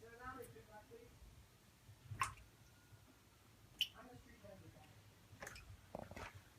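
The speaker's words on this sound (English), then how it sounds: "You can hear it still dripping like crazy in here." Water drips from a leaking Eternal hybrid water heater, faint sparse drops falling at irregular intervals, a few sharper plinks standing out over a low background hum.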